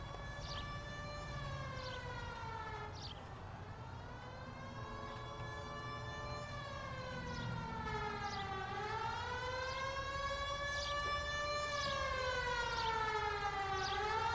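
A police car siren in the video game LA Noire wails up and down in long repeated sweeps, fairly faint and distant at first and then growing steadily louder, over low background rumble.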